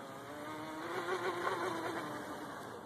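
A homemade outrigger RC boat driven by an exposed brushless motor runs steadily, its high motor whine and buzzing drone holding level throughout, heard from a moderate distance.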